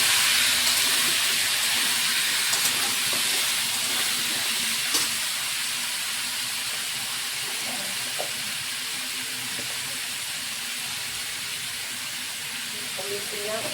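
Pumpkin and potato pieces fry in oil for a Malabar spinach and prawn dish, giving a steady, loud hiss that runs unbroken from start to end, with a few faint clicks but no clear talk.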